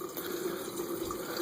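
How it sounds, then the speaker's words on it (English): Water drains from the bottom valve of a home hot water heater as a steady, faint rushing flow with no pauses or voices. "to conclude draining the hot water heater"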